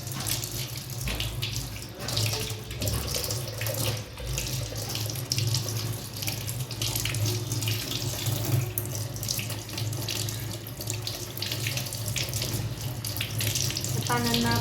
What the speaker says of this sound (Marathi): पानांना आपण इथे स्वच्छ धुवून घेणार आहोत